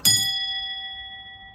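A clock strikes a single chime for one o'clock: one clear bright ding that rings out and slowly fades.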